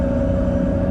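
A 1993 left-hand-drive Toyota Supra engine drones loudly from inside the cabin while driving, a brief, steady, heavy rumble with a strong sustained tone.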